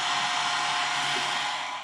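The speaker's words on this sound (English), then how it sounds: "I'm just going to make sure by using the hairdryer on it." A hair dryer blows steadily on a drying watercolour wash, a loud, even rushing whir that holds without a break for the whole stretch, with no talk.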